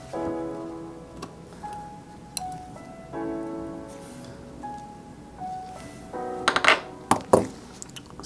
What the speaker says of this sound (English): push it down until you hear that clicking sound